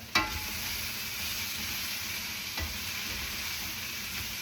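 Vegetables sweat in a hot pan with a steady, fairly quiet sizzle throughout, marked by a couple of brief knocks or stirs.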